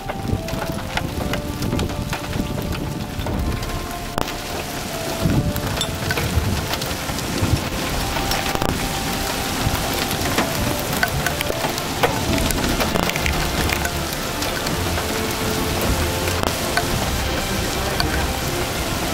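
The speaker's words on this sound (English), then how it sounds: "Starting to become rain wrap now," Heavy rain wraps around a tornado in Harper County, Kansas, during a 2004 storm, with a constant loud downpour drumming on surfaces and occasional sharp cracks and low thunder.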